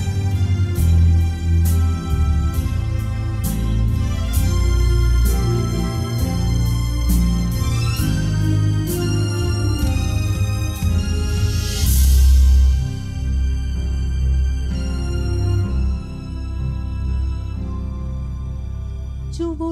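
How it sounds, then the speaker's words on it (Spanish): A song, a tribute to Eva Duarte de Perón, performed at an Argentine folk event, with steady sustained instrumental accompaniment and rhythmic plucked accents throughout, played loud and alone without talk. "Es una canción homenaje a Eva Duarte de Perón."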